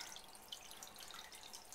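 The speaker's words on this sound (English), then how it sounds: "Been dripping for about 15 minutes now" Water drips into a 15-gallon goldfish tank being slowly filled. It makes a faint, steady, hissy trickle with small splashy ticks scattered through it.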